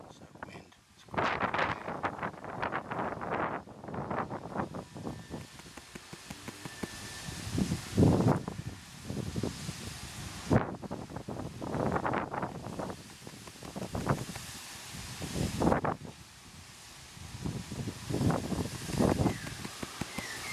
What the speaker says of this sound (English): It's that wind.